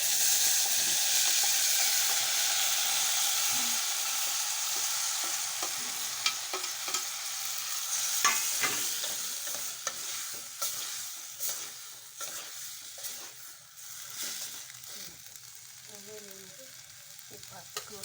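Tomatoes sizzle steadily in a hot pan with curry leaves and jaggery, while a utensil scrapes and stirs them in irregular strokes; the frying stays loud and close throughout.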